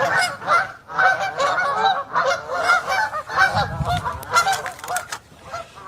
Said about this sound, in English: Look at all these ducks. Geese, ducks, same thing, same thing.